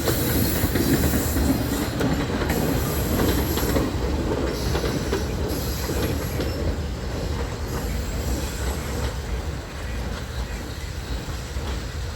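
A freight train on the Union Railroad in Pittsburgh, Pennsylvania, rolls steadily past close by, a continuous heavy rumble with rattling wagons and occasional wheel squeal.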